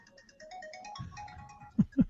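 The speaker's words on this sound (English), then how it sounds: "somebody's phone is going off" A mobile phone ringtone plays a short electronic melody, with two louder low thumps near the end.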